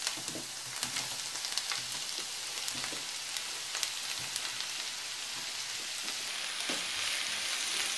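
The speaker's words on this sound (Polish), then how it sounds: "Przez chwilę będę tę cebulę smażyć, aż straci swoją surowość." A steady, close sizzle of onions frying in a pan, with soft crackles and pops throughout.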